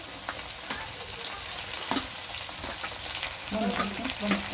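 Meat sizzles and fries in a pan, a continuous crackling hiss broken by occasional pops and stirring scrapes.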